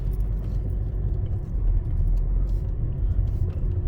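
A vehicle climbing a frozen clay track in cold winter conditions at Wills Creek Wildlife Area, Ohio, a steady low engine rumble heard from inside with faint rattles and no tire spin.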